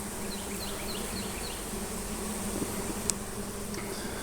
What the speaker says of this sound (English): The bulk of the bees is right here, so I'm fairly certain that's where all the brood is.